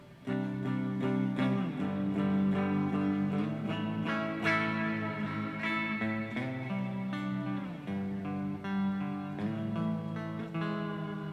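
Electric guitar played through a distortion pedal blended with a modulated reverb pedal, sustained chords ringing with a thick, washy tail throughout, loud and continuous with no talk.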